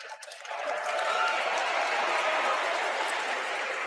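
A large audience at a Final Fantasy 14 presentation breaks into cheering and applause, a broad steady roar of claps and shouts that swells within the first half second and holds loud throughout.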